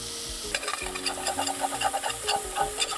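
Onions and ginger fry in a pan while a utensil scrapes and stirs in quick, irregular clatters over a bright, steady sizzle, close up and fairly loud, with no talking.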